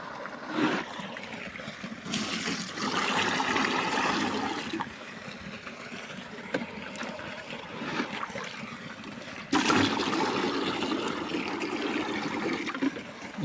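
Irrigation water gushes and splashes into furrows on a farm plot, a loud continuous rushing that surges louder twice, with no talk.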